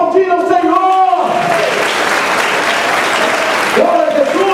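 A church congregation breaks into loud, sustained clapping between stretches of a man preaching emphatically in Portuguese, the applause swelling and filling the room.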